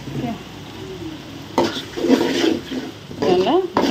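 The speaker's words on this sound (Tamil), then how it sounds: "நல்லா பச்சை வாடை போகும் வரைக்கும் நல்லா வதக்குங்க. அடி பிடிச்சிரும், கை விடாமல் கிண்டிடுங்க." Ginger-garlic masala and tomatoes being sautéed for a country chicken curry: a spoon scrapes and stirs steadily through a gentle frying sizzle in a pan, with faint voice-like tones in the background.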